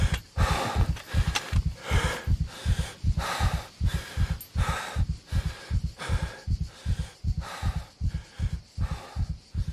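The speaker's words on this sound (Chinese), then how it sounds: "你听听这喘气声音" A heavyset survival-game character in SCUM pants hard while pushing a loaded handcart, giving about twenty close, loud breaths in a steady, rapid rhythm, each a sharp huffing burst, with no talking.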